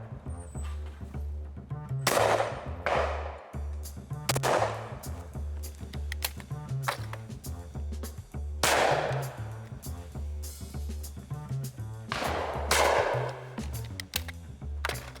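A shotgun with 32-inch barrels and full and 3/4 chokes fires four loud, sharp reports outdoors, spaced several seconds apart, each one followed by a brief echoing tail over quiet background.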